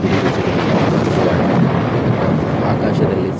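A thunderstorm sound effect rolls on in a loud, dense rumble of deep thunder blended with heavy rain, continuous and close for several seconds.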